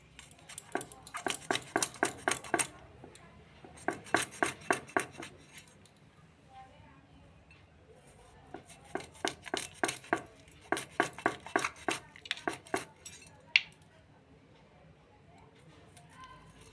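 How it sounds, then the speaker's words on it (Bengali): A knife chops bitter gourd on a cutting board in quick bursts of sharp, rhythmic taps separated by short pauses, close and clear, with a voice talking faintly between bursts. "উচ্ছেটাকে কিভাবে কাটছি দেখুন।"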